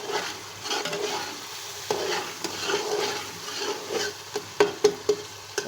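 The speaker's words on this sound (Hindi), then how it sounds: "इसको हल्की आंच पे मज़ीद 5 मिनट तक भूनेंगे" Chana pulao masala with tomatoes and chicken powder fries on low heat while a utensil stirs it, making steady sizzling, scraping strokes and a few sharp taps near the end, close up with no talking.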